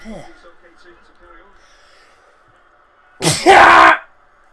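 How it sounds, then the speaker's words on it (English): A single loud, close sneeze bursts out near the end, short and explosive, after a stretch of quieter voice and background noise. "that was a good sneeze"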